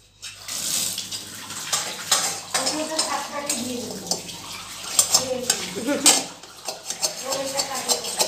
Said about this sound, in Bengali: কড়াইতে লেগে থাকে আর সে খুঁটে খুঁটে খুন্তি দিয়ে